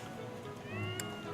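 A cat meows in the video game Fire Emblem: Three Houses, a short in-game cry rising briefly over a steady background of game music.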